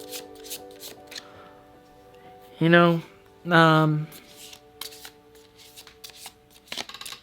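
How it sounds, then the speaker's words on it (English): Tarot cards are riffled and bridged in two quick bursts, close and crisp, with a person speaking quietly around them. "I already started shuffling the clarifier deck for some reason"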